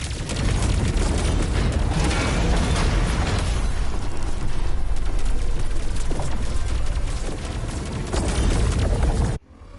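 Heavy cannon fire and explosions in the Wuthering Waves game, a dense continuous barrage of loud booms and blasts that rumbles for nearly ten seconds before cutting off abruptly.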